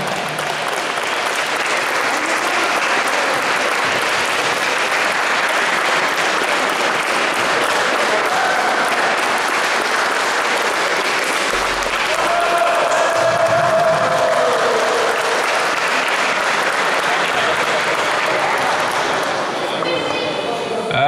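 A crowd applauds continuously at a sports tournament awards ceremony indoors, a dense, loud clapping that lasts throughout, with a speaker's voice over it and some cheering.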